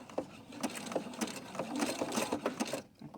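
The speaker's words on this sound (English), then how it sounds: "I start sewing" A domestic sewing machine stitches a simple fabric shopping bag with a 1 cm seam allowance, running in a steady whirring hum with rhythmic needle thumps and small pauses, close and moderately loud.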